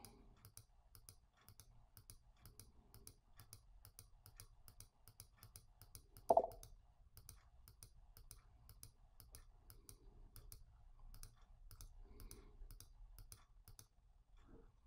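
A single sharp computer mouse click while adding certificates on a Mac stands out in an otherwise quiet stretch with a faint, steady electronic ticking in the background.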